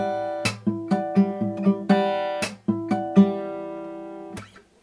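Steel-string acoustic guitar plays the intro riff of a song, a run of bright plucked notes and ringing chords with sharp percussive attacks, close and clear with no talking.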